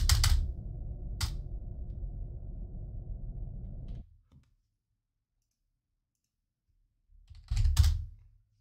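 Computer keyboard clicks in a burst at the start, then a steady low rumble of game noise for about four seconds, silence, and another short burst of keys near the end, up close.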